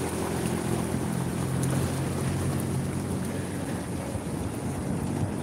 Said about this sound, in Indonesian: Oh, ombaknya makin besar.